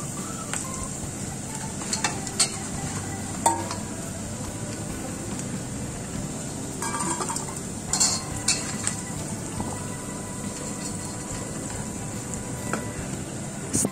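Eggplant frying in oil in a pan sizzles steadily throughout while a utensil stirs it, with scattered scrapes and clinks against the pan and no talk.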